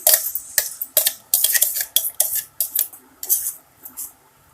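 Ground brinjal mixture frying in a spoonful of oil in a pan, stirred briskly with a metal spoon that scrapes and clatters against the pan in quick, repeated strokes, loud and close, with no voices.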